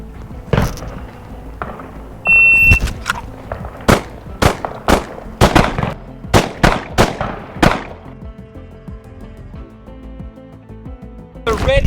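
A handgun drawn from the holster fires a short string of rounds at 7 yards on a shooting range, sharp loud reports spaced by brief pauses, with more shots following later.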